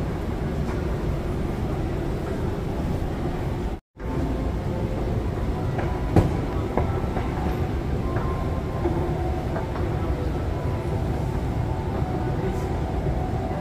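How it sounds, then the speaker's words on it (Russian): Steady rumbling roar of a Naples metro train in motion near Toledo station, with a brief dropout partway through and faint rattles over the continuous noise. "А потом вновь села на поезд и продолжила свой путь"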